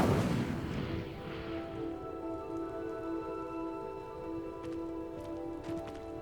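An Incendio fire spell is cast in the Hogwarts Legacy video game, opening with a loud whooshing burst of flame that fades into a sustained tonal magical hum, with faint crackles and flickers near the end.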